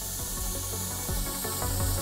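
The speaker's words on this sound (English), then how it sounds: "and also spray over some of those darker areas" An airbrush sprays blue paint mixed with transparent base in a steady close hiss, with faint rubbing and tapping clicks scattered over it.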